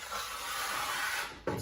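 A trowel drags adhesive across a floor while Karndean vinyl tiles are being laid, making a steady, close gritty rasp that runs unbroken for well over a second, then a short sharp knock at the end.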